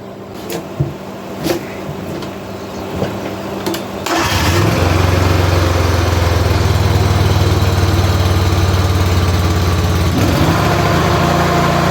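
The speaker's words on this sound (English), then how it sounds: "keep the lawnmower running" A few clanks and knocks, then a small engine sputters to life and runs on steadily with a buzzing, even drone, like a lawn mower nearby.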